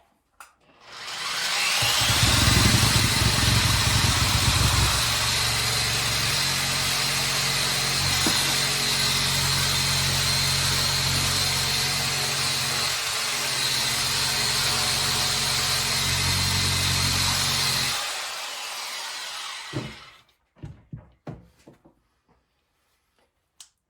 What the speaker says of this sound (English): I've got it on setting number 4 out of 6, so let's just take a quick shot and see what happens here